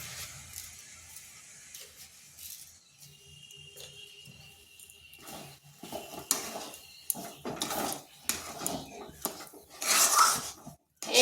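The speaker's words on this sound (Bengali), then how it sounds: "এইভাবে নেড়ে নেড়ে একটা ডো তৈরি করতে হবে।" Semolina with sugar stirred in a pan into a dough: quiet at first, then repeated uneven scraping and clattering of a spoon against the pan, growing louder toward the end.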